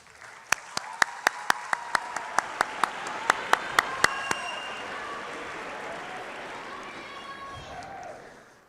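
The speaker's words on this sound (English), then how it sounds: "give them a round of applause" Graduates at a high school graduation ceremony applauding their loved ones and teachers, opening with a run of sharp, evenly spaced single claps that swell into broad, sustained crowd applause with some cheering before fading out.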